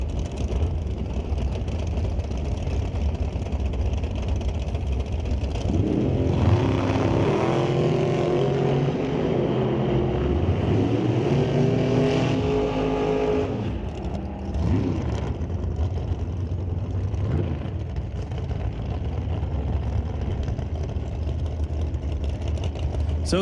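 Drag race run at a Northwest NHRA open-series event, Camaro against a dragster: a loud, continuous engine roar that swells and rises in pitch mid-run, then fades, over steady track noise.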